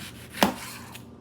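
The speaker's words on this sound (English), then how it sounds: "I'm also just going to slice up this onion." A kitchen knife cuts thinly through an onion on a board, one crisp close chop followed by a fainter second tap, with no talking.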